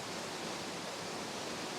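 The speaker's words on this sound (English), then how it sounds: "But you just look at these waterfalls." Waterfalls in the Great Smoky Mountains produce a steady, dense rushing roar of falling water that fills the scene evenly without a break, with no voices over it.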